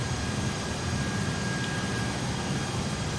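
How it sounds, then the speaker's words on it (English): Steady engine drone of an Airbus A320neo, a constant broadband roar with a low rumble heard from inside the aircraft, unchanging and continuous with no voices over it. "The Airbus, it's a 320 Neo,"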